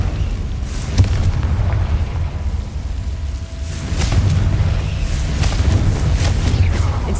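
A Confringo spell explosion in Hogwarts Legacy lands as a deep booming blast with a low rumbling roar, followed by further muffled booms and bursts over a constant low drone.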